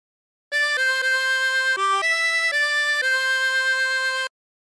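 A 24-hole tremolo harmonica plays a short phrase of Yellow Rose of Texas, a run of clear wavering reedy notes held alone without any voices.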